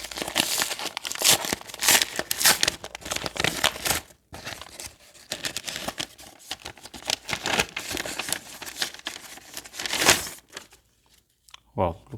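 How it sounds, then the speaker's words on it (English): Paper envelope holding a book being torn open and handled, with bursts of crinkling, tearing and rustling close up, brief pauses between, and a voice talking at times. "let me open one envelope for you"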